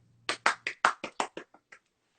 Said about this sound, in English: Yes, claps for Gigi.